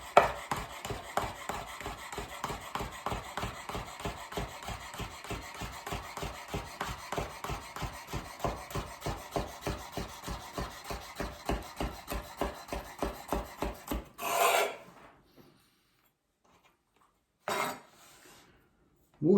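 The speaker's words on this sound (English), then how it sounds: "So again with that we'll just do some nice thin little slices." A knife cuts asparagus into thin slices on a board for a mushroom, asparagus and courgette risotto, a fast, steady run of crisp chops for about fourteen seconds, then a few scraping sweeps of the blade, with no talking.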